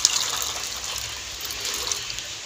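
Water poured into a pot of roasted white chickpeas in a home kitchen, a steady splashing gush running throughout without pause.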